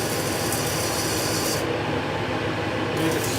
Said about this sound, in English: So I take 100 of sandpaper and just run over the edge of it.